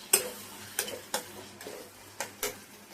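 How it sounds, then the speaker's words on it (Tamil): Onions frying in a pan for Tamil garlic kuzhambu, a soft steady sizzle broken by about six sharp stirring scrapes of a spoon against the pan, close and moderately quiet, with no voices. "நல்லா வதக்கி விட்டுட்டு இப்போ போட்டிருக்க வெங்காயம்லாம் நல்லா கோல்டு கலரில் மாறணும்."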